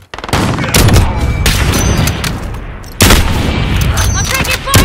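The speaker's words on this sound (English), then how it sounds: "I'm taking fire!" Heavy gunfire in the shooter game Modern Warfare, with loud bursts of shots and booms that crowd the whole stretch, dropping out briefly near the third second before another dense volley.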